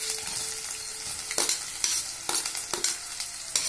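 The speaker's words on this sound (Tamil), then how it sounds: "இந்த பூண்டு இஞ்சி நல்லா வதங்குதுங்க" Garlic and ginger fry in a pan for chicken masala, a steady close sizzle broken by sharp scrapes of stirring, with no voices.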